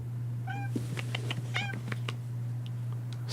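A house cat meows twice at close range, short chirping cries with a few soft clicks around them, over a steady low electrical hum.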